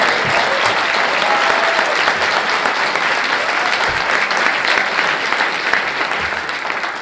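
Sustained, loud applause from a large audience at the Pierre Angénieux tribute ceremony at Cannes 2022 honouring Darius Khondji, an even roar of clapping holding steady for about seven seconds.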